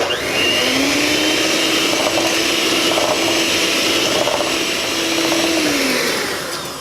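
An electric mixer blends melted coconut oil and butter into pumpkin bread batter with a steady, loud whirring drone that holds nearly throughout, easing off at the very end.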